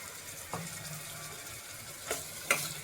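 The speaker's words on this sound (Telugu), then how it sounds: "ఇప్పుడు మనం అల్లం వెల్లుల్లి పేస్ట్ అయితే వేసుకుందాం." Ginger garlic paste sizzles in a pan with golden fried onions, a soft, steady frying hiss with a few quiet stirring scrapes, heard alone and faint.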